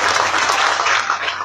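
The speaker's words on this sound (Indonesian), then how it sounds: "Oke, tepuk tangan untuk beliau" Brief dense burst of audience applause for a speaker, steady and fairly loud throughout with no gaps.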